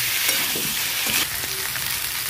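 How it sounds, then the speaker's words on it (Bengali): Potato and pointed gourd curry is stirred and sautéed in a hot pan, a steady close sizzle broken by scraping spoon strokes, with no voices. "ভালো করে কষে নিয়েছি"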